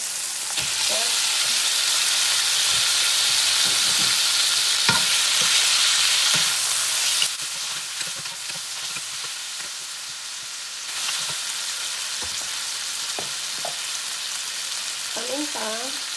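Pork and tomatoes fry in a hot pan with a loud, dense sizzle that drops off sharply partway through, then continues more quietly under scattered clinks and scraping of a utensil against the pan.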